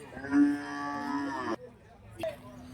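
At the Friday cattle market in Kundarapalli, Krishnagiri district, a calf lets out one drawn-out moo, close and clear, then a short second bleat after a pause.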